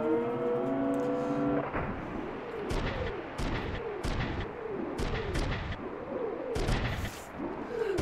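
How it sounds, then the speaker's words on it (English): Repeated booming blasts go off on a military base in the video game Front Mission 3. A sustained harmonic tone opens the sequence, then sharp cracks and rolling explosive thumps keep recurring loudly. "Accidental explosion on the base."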